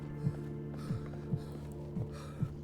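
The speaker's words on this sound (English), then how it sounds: "I can hear my heart beating." A heartbeat in the video game No More Room in Hell thumps low and steady about every half second, five beats under a constant ambient hum.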